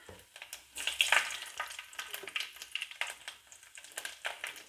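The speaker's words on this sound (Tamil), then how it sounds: "இப்போ எண்ணெய் நல்லா காஞ்சிச்சு கடுகு வெந்தயம் ஜீரகம் எல்லாத்தையும் இதை சேர்த்துக்கிடுவோம் அது நல்லா பொரியணும்" Mustard seeds, fenugreek and cumin splutter and crackle in hot oil in a pan for sambar, a close, busy sizzle full of sharp little pops that rises and falls.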